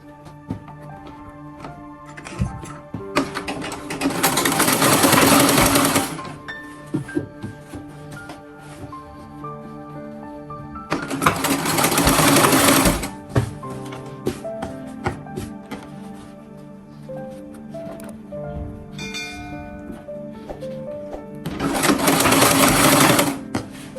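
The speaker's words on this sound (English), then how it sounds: "Let's sew." A sewing machine stitching a button shirt runs loudly in three long bursts of steady whirring, each several seconds, separated by quieter stretches of small handling noises close by.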